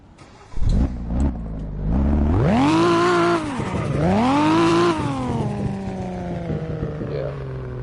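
V6 car engine in a Roblox video game starting and revving twice in loud rising-and-falling sweeps, then settling to a steady idle, with a voice briefly present.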